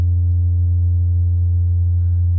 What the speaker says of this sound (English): the compressor is responding to every single oscillation of that low waveform, causing this distortion